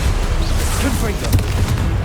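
Confringo fire spell blast in Hogwarts Legacy, a loud low boom with crackling bursts and a brief voice over the game noise.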